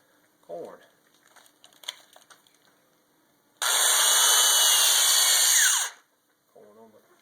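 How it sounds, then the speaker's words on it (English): A power drill spins a corn cob in a corn creamer, a loud, steady high-pitched whir lasting about two seconds before cutting off, with brief talk before and after it. "Corn on the drill."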